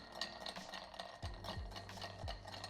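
A bar spoon stirs a Negroni cocktail over ice in a mixing glass, giving soft clinking and swirling ice rattles in a gentle repeating rhythm, close and quiet.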